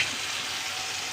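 Onions sizzling in hot oil, tempered for a chicken curry in a home kitchen: a brief, steady hiss of frying, soft and close, with no talk.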